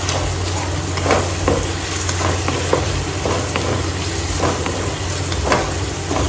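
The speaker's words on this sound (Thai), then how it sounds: "แล้วก็ผัด" Vegetarian pad see ew being stir-fried with a spoonful of fermented soybean paste, a steady close sizzle broken by brief scrapes and clatters of a spatula in the pan, with no talking.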